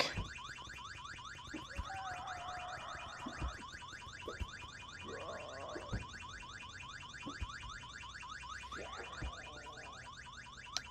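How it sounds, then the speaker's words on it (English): A fire alarm rings in the video game VEIN, a loud repeating electronic alarm pattern pulsing steadily throughout, with a few softer background game sounds beneath it. "That's the fire alarm thing."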